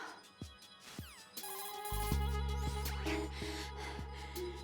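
A codec call ringing in Metal Gear Solid 2, a repeating electronic ring tone that starts after a few clicks and holds steady under game music and ambient sound.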